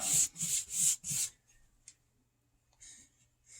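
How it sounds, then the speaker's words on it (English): A brush spreads grey paint in a powder room bathroom: four quick, close, rhythmic strokes, then quiet with a couple of faint softer brushes. "A few strokes of the brush."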